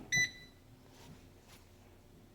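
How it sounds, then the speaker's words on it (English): A single short electronic beep from a 6-quart 9-in-1 CHULUX electric pressure cooker as it is plugged in, clear and close, followed by quiet room noise. "plug it into the wall, and you're going to hear a beep"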